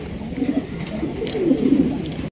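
A pigeon coos repeatedly at a dealer's market, with low throaty rolling calls close by over a busy background hum and no voices.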